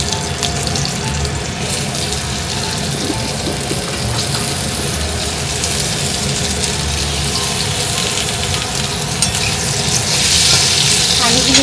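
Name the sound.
potatoes frying in hot oil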